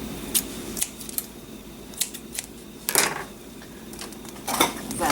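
Scissors snip through twine in a few sharp, close cuts spaced irregularly, with small handling clicks between them and no talking.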